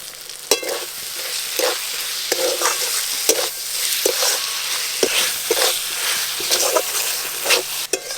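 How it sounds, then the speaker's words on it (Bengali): Spice masala with chopped tomato, salt and sugar being stir-fried in a pan for a Bengali dish with shrimp and cabbage, with steady sizzling and repeated scraping strokes of a spatula, close and fairly loud, no talking. "মশলা খুব ভালো করে কষে নিয়েছি"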